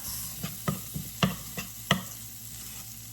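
Vegetables sauté in a dry pan that has been topped up with butter, giving a soft sizzling background punctuated by about half a dozen sharp scraping and tapping stirs at close range, with no talking.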